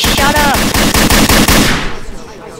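Loud, close automatic gunfire from a machine gun in the Garry's Mod video game, a rapid steady stream of shots that trails off into echo at the end.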